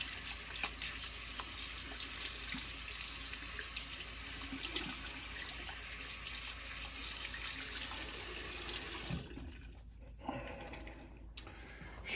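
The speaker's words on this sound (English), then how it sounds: "So I'm just washing my brush with cold water." Cold tap water runs steadily into a sink while a shaving brush is rinsed under it, a close, continuous splashing stream that cuts off near the end, leaving a few drips and quiet handling.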